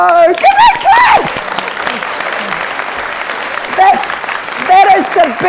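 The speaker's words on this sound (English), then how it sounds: "Give it a clap." Audience applause fills a conference hall at a women-in-leadership event, loud and steady clapping running throughout, with a voice speaking over it at the start and near the end.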